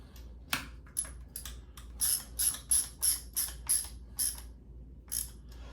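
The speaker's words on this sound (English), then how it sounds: "now we're just going to have our installation of this action screw" An action screw being installed on a custom Ruger 10/22 rifle build, heard as a rapid series of small close metallic ratcheting clicks, faint and without talk.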